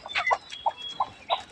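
Hens on a cattle farm cluck in short, separate bursts spaced through the moment, fairly close, with faint farm background.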